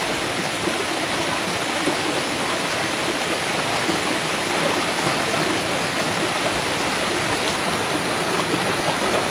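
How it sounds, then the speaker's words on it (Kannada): A small waterfall and stream on a hillside trekking trail in the Hosahalli hills near Sakleshpur rush steadily, filling the scene with constant, even broadband water noise without voices. "ಇಲ್ಲೊಂದು ಫಾಲ್ಸ್ ಥರ ಇದೆ ಆಯಿತಾ ಒಳಗಡೆ"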